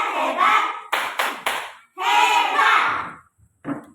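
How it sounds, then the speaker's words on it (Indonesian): Primary-school classmates in a fourth-grade lesson applaud a student group, with short bursts of clapping mixed with children's voices calling out in rhythm, loud and close, separated by brief pauses. "tepuk tangan untuk kelompok Matahari"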